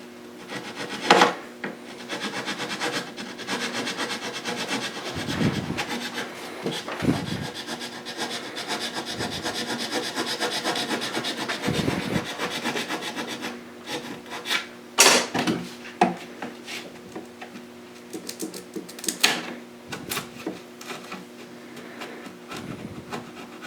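Wooden guitar braces are trimmed to length by hand, giving steady rasping, filing and sawing strokes with scattered sharper knocks over about twenty seconds, up close with no talking.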